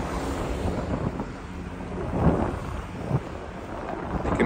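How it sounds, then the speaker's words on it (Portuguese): Wind buffeting the microphone at Balneário Camboriú beach during a cyclone with strong winds, a steady rough rumble with gusts swelling louder midway, no voices. "Tá ventando em mim, mas as árvores estão paradas."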